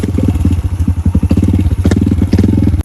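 A motorcycle engine runs loud and close in a rural mountain area, a steady pulsing chug with rattling clatter throughout and no talk over it.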